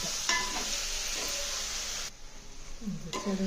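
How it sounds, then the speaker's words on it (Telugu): Coconut chicken masala cooking in oil on low heat, a soft sizzle with scraping stirring strokes of a spoon against the pan, fairly quiet, briefly dropping away before stirring resumes near the end. "మళ్ళీ ఆయిల్ దాకా సిమ్లో పెట్టి తిప్పుకుంటా ఉడికిద్దాము"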